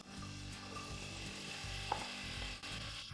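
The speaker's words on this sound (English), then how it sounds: "And let it saute gently." Onion, carrot and celery sautéing gently in extra virgin olive oil in a large saucepan, a faint steady sizzle with a few soft stirring clicks.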